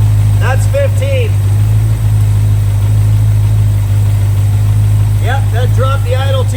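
A 1968 Plymouth Barracuda with a 318 V8 idles steadily with its ignition timing retarded, a loud, constant low rumble throughout while someone talks briefly near the start and again near the end.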